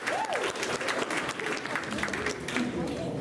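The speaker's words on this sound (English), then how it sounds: "Let's give him a round of applause." A crowd claps steadily throughout, dense and sustained, with a few voices calling out over the applause.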